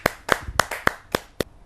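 An audience at a Hindi kavi sammelan poetry recital claps in six sharp, evenly spaced bursts, crisp and close, before the poet Tillan Verma begins to recite.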